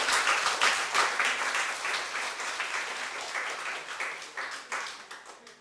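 A church congregation claps during a Sunday morning worship service, a dense, steady burst of many hands that carries for several seconds and slowly thins toward the end.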